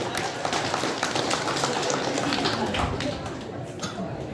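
Audience clapping for the women at an Indonesian gathering, a dense, steady patter of many hands at moderate distance that eases slightly toward the end.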